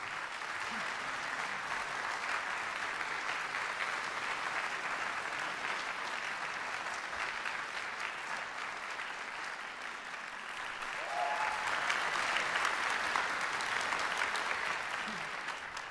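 Sustained applause from an audience at a vocal competition awards ceremony in a Polish opera theatre, steady and dense throughout, swelling slightly louder toward the end.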